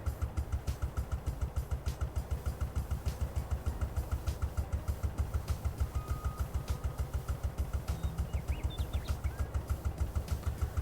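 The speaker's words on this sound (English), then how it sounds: "The sound of this tractor idling is actually quite satisfying." A tractor engine idles in the Farming Simulator 22 video game, a steady fast rhythmic chugging with an even pulse throughout, moderately quiet and alone.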